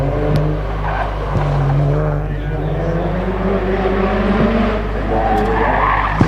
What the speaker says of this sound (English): Nice little handbrake action by the old Falcon.